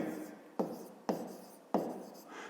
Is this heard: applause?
no